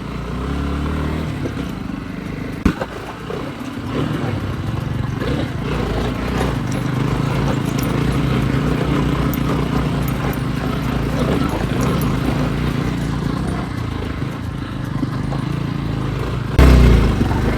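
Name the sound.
motorcycle riding uphill on off-road mountain trail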